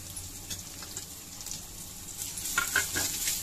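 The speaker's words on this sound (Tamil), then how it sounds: "நல்லா வதக்கிக்கணும்" Dry red chili, garlic and grated coconut sautéing in a pan give a steady soft sizzle with scraping stir strokes, growing slightly louder near the end; no one speaks.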